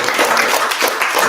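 An audience at a talk on romance and longevity claps steadily, a dense wash of many hands that stays loud and even across the short stretch, with no voices over it.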